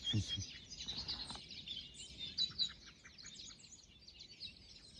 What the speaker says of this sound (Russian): Птицы просто на все голоса, да?